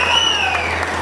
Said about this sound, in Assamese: এটা সুন্দৰ হাত চাপৰি আপোনালোকে মাৰক